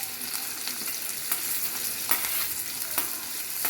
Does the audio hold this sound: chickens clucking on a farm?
no